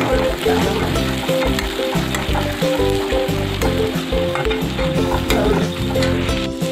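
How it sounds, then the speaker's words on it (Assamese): Onion fries with garlic-ginger paste in a hot pan for a fish curry, a dense continuous sizzle with stirring scrapes, loud and close, while music plays steadily underneath. "নহৰু আদা পেষ্টখিনি দি মই আকৌ ভাল কৰি ভাজিব ধৰিছোঁ"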